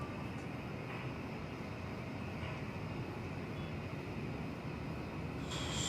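A steady, broad roar from an airplane at DFW Airport at night rumbles on without a break, distant but heavy in the low end, with no voices over it.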